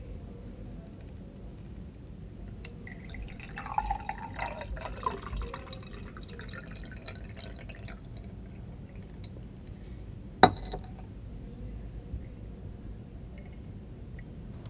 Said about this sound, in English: Now pour water in one of the glasses.